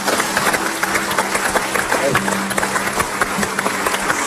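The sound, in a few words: studio audience applause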